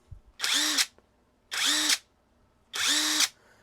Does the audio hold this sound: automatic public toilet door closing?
no